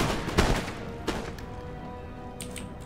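Gunfire erupts in the Empire Total War game as troops open up on a field artillery crew: a couple of sharp, heavy bursts early on, then a lingering rumble with faint distant battle noise.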